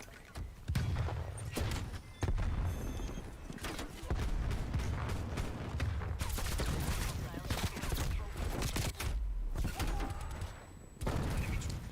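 Grenade and stun grenade blasts in a Call of Duty match, heavy booms and bursts of gunfire crowding a loud, busy battle mix over about twelve seconds, with a voice speaking at times.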